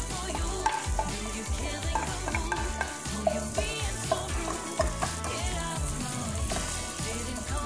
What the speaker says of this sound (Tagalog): Gisa lang natin hanggang mag-translucent.